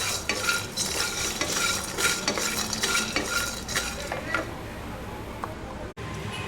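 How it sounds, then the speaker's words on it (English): Coconut pieces fry on a low flame in a pan for biryani gravy, with a steady crackling sizzle and scraping stirs of a utensil against the pan, close and continuous before easing off near the end. "now into this add these coconut pieces also and fry them on a low flame for 4 to 5 minutes"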